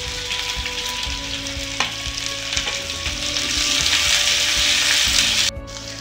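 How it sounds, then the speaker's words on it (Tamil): Chopped onion with curry leaves and green chillies sautés in hot oil for an egg and potato stuffed paratha, a close, steady sizzle and crackle broken by occasional stirring, with no talking. "வெங்காயம் கொஞ்சம் வேகிற வரைக்கும் நம்ம நல்லா இந்த எண்ணெயிலேயே நம்ம வதக்கி விட்டுக்கலாம்"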